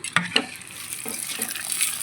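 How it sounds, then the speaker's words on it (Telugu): Chilies frying in hot oil as a tempering for ridge gourd dal crackle and sizzle steadily up close, with a couple of sharper pops and stirring scrapes. "ఇప్పుడు ఇదంతా కూడా చక్కగా ఫ్రై అయిపోవాలి చూసారా ఎంత చక్కగా ఫ్రై అయిపోతున్నాయో"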